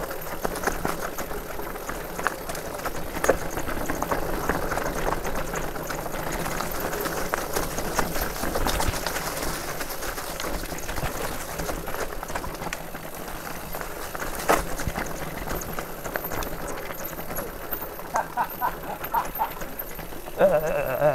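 A BMC Trailfox AMP SX e-bike rolls over cobblestones, giving a steady rattling, buzzing rumble with small irregular knocks from the uneven stones, moderately loud throughout.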